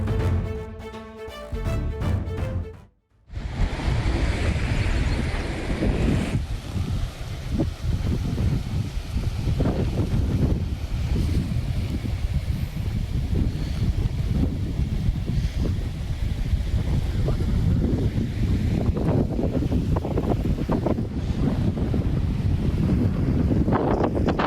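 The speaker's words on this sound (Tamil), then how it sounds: "ஓசூர் கெலவரப்பள்ளி அணை பகுதியில் வீசிய பலத்த காற்றால் குவியலாக ரசாயன நுரைகள் காற்றில் பறந்தன." Strong wind roars continuously at Kelavarapalli dam in Hosur, where chemical foam blows through the air, with heavy buffeting on the microphone after a brief opening segment.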